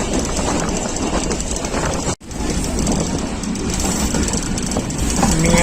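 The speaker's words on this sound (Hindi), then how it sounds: "मियांवाली शहर में दाखिल हो गई है ट्रेन।" Thall Express on Pakistan Railways rolling into Mianwali, a steady broadband rumble of wheels and carriages with one brief sharp dropout partway through, continuous and fairly loud with no voices.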